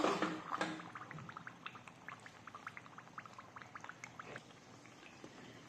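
Hot fried mung bean pakon pitha dropped into sugar syrup gives a soft liquid pour and sizzle, then a run of light, evenly spaced bubbling pops and drips that continue quietly on their own.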